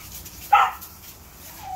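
A puppy gives a short, high whimpering yelp followed a moment later by a thin, drawn-out whine, both fairly faint over a quiet background.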